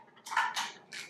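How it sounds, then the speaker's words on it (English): Spoon scraping and clinking against a bowl while pepper biscuit dough is stirred, three short close scrapes in about a second, fairly quiet. "start stirring it up"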